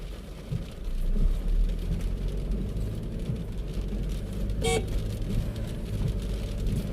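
A 2021 Toyota Innova Crysta BS6 pulls away and drives, with a steady low engine and road rumble throughout and no voices.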